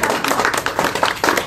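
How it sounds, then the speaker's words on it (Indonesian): A live audience at a Ramadan cooking competition claps hands together in a dense, steady burst of applause close by, sustained throughout with no pauses. "Jadi kasih tepuk tangan dong"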